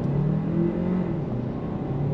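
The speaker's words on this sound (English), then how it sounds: "let's do an acceleration test again from a dead stop" A 2024 Hyundai Santa Fe Hybrid midsize SUV pulls away from a dead stop, giving a steady close engine hum and whir with a slight rising tone throughout, heard alone without talk.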